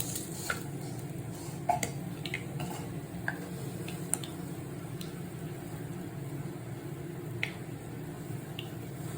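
Faint scattered pops and crackles of mustard seeds spluttering in hot oil over a low steady background hum.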